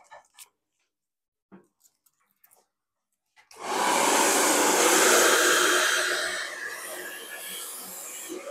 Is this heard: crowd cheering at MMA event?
no